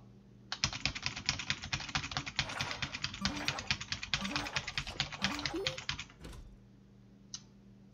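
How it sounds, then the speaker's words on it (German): Rapid computer keyboard typing, loud and close, fills about six seconds with dense clattering keystrokes over quiet game music, then stops. "Ihr werdet gleich sicherlich etwas lauter meine Tastatur hören."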